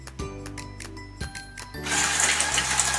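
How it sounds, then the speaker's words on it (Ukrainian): A kitchen mixer creams butter with sugar, starting with a few uneven mechanical whirs and clunks before settling into a loud, continuous whirring grind up close. "Збили масло з цукром"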